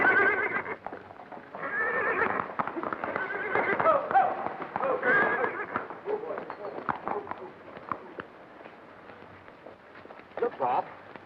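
A horse neighs and whinnies in an Old West setting, with hoof clip-clops and voices talking around it; the whinny comes loud and close near the start, then quieter movement and shuffling follow.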